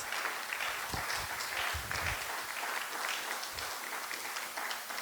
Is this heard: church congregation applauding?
yes